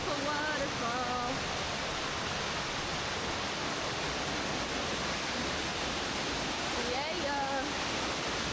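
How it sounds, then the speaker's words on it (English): The waterfall on the Kanarra Falls hike roars as a dense, steady rush of falling water, close and loud throughout, with faint voices briefly audible beneath it. "look at the beautiful waterfall"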